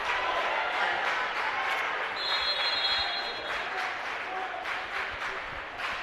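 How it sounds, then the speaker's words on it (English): Fans at a college conference volleyball championship applaud and cheer in a sustained, fairly loud crowd roar that holds steady for several seconds. "Crowd getting into it."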